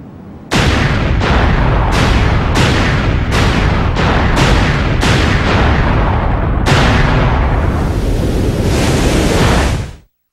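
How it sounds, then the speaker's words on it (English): The island blows up in the Sonic Adventure 2 video game, with a rapid series of loud explosive blasts followed by a long roaring rumble that fades out abruptly, with no speech. "Eggman had thought one step ahead of G.U.N and decided to blow the island the Kingdom Come"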